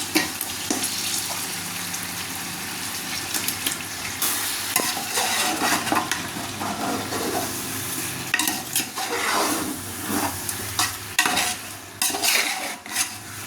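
Chicken is stirred and fried in a pan with tomato, salt and lemon, giving a loud continuous sizzle, and a spoon scrapes and clinks against the pan again and again.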